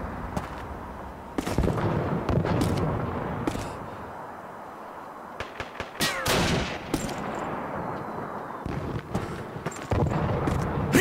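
Sniper rifle shots and surrounding gunfire ring out in the World War II game Call of Duty 2, with several sharp loud cracks and bursts spread across the clip over a rumbling battle background.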